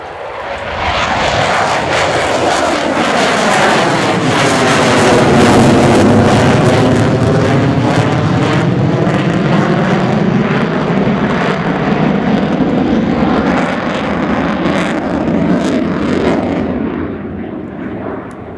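A Qatar Emiri Air Force F-15QA Ababil fighter jet roars through a flying display at RIAT 2024, a loud continuous engine blast that swells as it passes and sweeps in pitch before fading slightly, with crackling wind buffeting, no voices.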